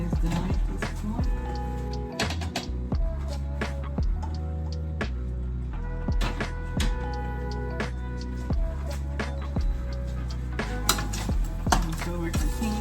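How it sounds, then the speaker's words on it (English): Onions and garlic cooked with white wine are stirred in a pan, giving steady scraping and clinking of utensil against metal over a constant sizzle, with repeated rhythmic strokes throughout. "So we're continuing to stir."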